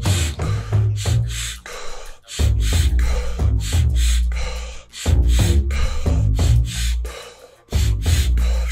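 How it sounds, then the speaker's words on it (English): Sharp sniffing breaths and forceful exhales during a guided breathwork session, repeating in quick bursts with brief pauses, close and loud over a low music bed. "Sniff, sniff, poo, let's do this."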